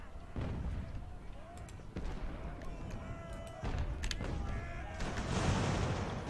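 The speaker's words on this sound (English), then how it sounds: "And we have some mortars opening fire" Mortars firing during a land battle in Ultimate Admiral Age of Sail, with several dull booms spaced a second or two apart amid rumbling battle noise, while a commentator talks over it.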